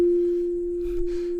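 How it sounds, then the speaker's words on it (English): A steady pure sine-wave tone at raised amplitude holds one unchanging pitch for the whole moment, loud and alone, with only faint background hiss behind it. "When you increase the amplitude, the volume of the sine wave increases"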